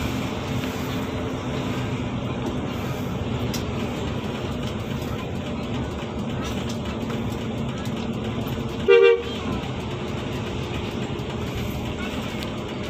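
A BKL Trans bus gives one short, loud horn blast midway, over constant engine and road rumble inside the moving bus, with people talking.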